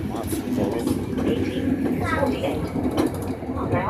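Riding inside a moving train on the way to Parma, Italy: a continuous rolling rumble and rattle of the carriage, with a voice talking over it throughout.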